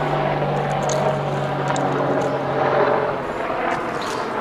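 Steady, loud rotor drone of a military helicopter flying overhead outdoors near a beehive, a continuous broad rumble that swells a little midway, with no talking.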